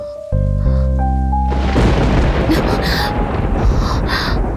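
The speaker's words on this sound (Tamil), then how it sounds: "இடியும் மின்னலுமா இருக்கு" Thunder booms and heavy rain pours down steadily during a cyclone storm, loud and close, following a brief sustained musical tone at the start.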